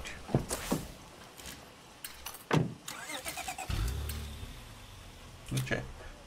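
A car engine in the video game State of Decay 2 turns over and starts with a low rumble near 3.7 s, after several short door-like clunks, then settles into a steady idle.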